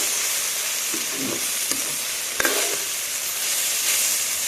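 Okra sizzling in a pan with onions and yogurt stirred in, a steady crackling fry with a few soft clinks and stirring scrapes, close and moderately loud, no voices.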